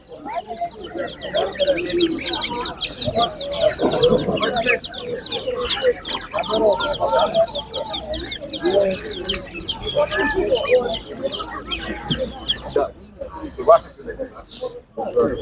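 Young chickens cluck and chatter constantly in a busy flock at an animal market, close and loud, with people talking underneath.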